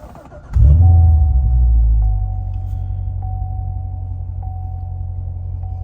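A Corvette C7 Stingray engine cranks and fires up by push button with a deep rumble, then settles into a steady, throaty idle close by.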